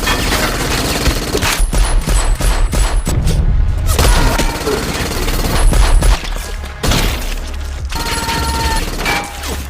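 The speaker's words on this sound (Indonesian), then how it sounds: "Tiba-tiba, mereka diperondong ratusan peluru dari pacarnya Playa." Sustained gunfire rattles through a film action scene, with rapid loud bursts and booming shots in dense clusters and brief pauses between volleys.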